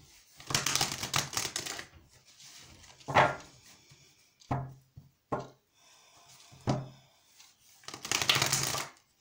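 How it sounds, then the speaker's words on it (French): Playing cards being shuffled by hand before a reading, with several bursts of riffling and short snaps, loud then lighter taps in between, recorded close with no talking. "je vais commencer par mélanger mes cartes"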